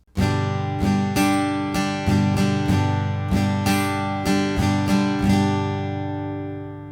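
An acoustic guitar strumming pattern with the upstroke between beats one and two left out, chords ringing full and steady with regular accented strokes, close and alone.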